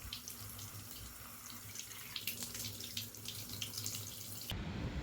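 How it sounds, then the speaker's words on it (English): Tap water pours steadily over a waterproof Galaxy A55 smartphone rated IP67, a continuous close splashing rush lasting several seconds before cutting off abruptly. "You can pour only tap water on it."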